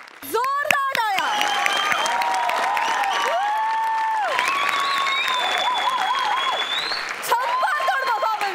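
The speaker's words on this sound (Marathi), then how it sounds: "जोरदार टाळ्या." A studio audience at a Marathi comedy show claps in sustained, loud applause. Voices and tonal sounds mix in over the steady wash of clapping throughout.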